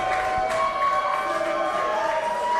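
A wrestling crowd at an ECW-style extreme event cheers and murmurs in a dense, tonal roar, with a commentator talking over the arena noise.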